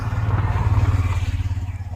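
A tractor engine in a mobile farming and loader video game, a steady low throbbing diesel idle with rapid regular pulses and a faint mechanical clatter, loud and close with no talk.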